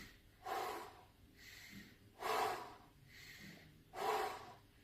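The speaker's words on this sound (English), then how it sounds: "I do in my nose, out my mouth, 10 complete breaths" Slow breathwork: three deep breaths taken in through the nose and released out through the mouth, each a loud airy rush followed by a softer exhale, evenly spaced and close, with no talking.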